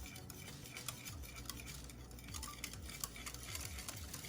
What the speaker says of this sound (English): So now we're gonna just whisk everything together